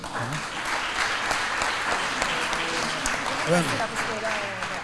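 An audience at an academic association's general assembly applauds, a steady wash of clapping that carries on throughout, with voices talking over it.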